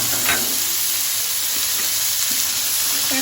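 Carrots, green beans and peas fry with onions in oil in a pan for vegetable pulao, giving a continuous loud sizzling hiss with faint occasional stirring taps and no talking.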